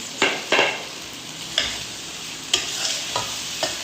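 Fried beef pieces are stirred into masala in a pan, giving repeated scraping strokes and bursts of sizzle at uneven intervals over a quiet frying hiss.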